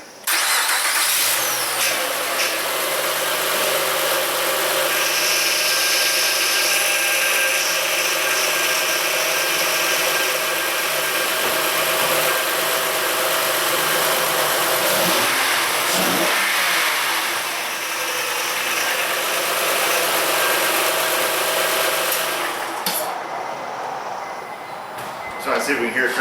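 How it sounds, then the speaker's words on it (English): Honda Ridgeline engine cranking and starting after a cylinder head installation, a loud continuous mechanical roar that runs steadily for over twenty seconds and then drops off, close to the microphone with no speech over it. "let's see if we can hear it crank over"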